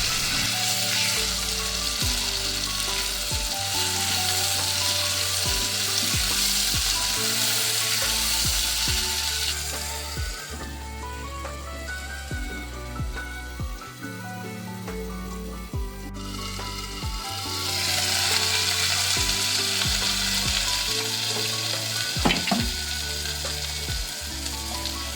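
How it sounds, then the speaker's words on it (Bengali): Onion, garlic, red chilli and tomato fry in a pan with a loud, continuous sizzle. The spatula scrapes and knocks at intervals, and the hiss swells and eases as the food is stirred. "অল্প কিছু পেঁয়াজ আমি ওই একই সঙ্গে রসুনের সঙ্গে লাল মরিচের সঙ্গে এবং"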